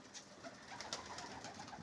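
Soft, repeated pigeon-like cooing from a pet bird, close by and fairly quiet, with no talk over it.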